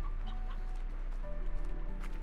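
A hen in the Slime Rancher video game clucks a few times, fairly quiet under steady game music and ambient background tones.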